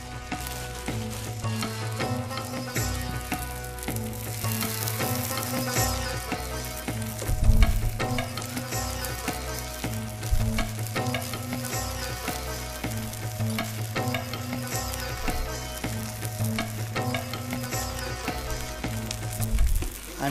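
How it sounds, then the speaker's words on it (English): Chicken sizzles and fries in melted butter or margarine for a cumin and chilli chicken dish, a steady crackling hiss with occasional sharper pops and stirring clatters, close and continuous with no talk. "our butter or margarine has already melted nicely. You can see how it's sizzling already"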